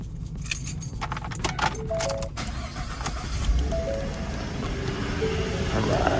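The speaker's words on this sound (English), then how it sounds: "crank it up, make sure everything's good" Keys jangle close by, then a Ford F-150 pickup's engine cranks and catches just after an oil change, settling into a loud, steady idle that runs to the end.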